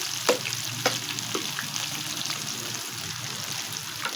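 Chickpeas frying in mustard oil, a steady close crackle and sizzle with a few light taps of a utensil early on, no talking.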